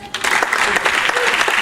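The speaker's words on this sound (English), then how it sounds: "Can you give him a bigger round of applause?" Audience applause after a speaker's closing thanks, a dense burst of clapping that starts quickly and holds steady and loud throughout, with a few voices mixed into the crowd.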